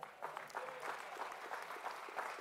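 Steady applause from a high school graduation audience, many hands clapping in a dense, continuous patter that stays at a fairly even level throughout.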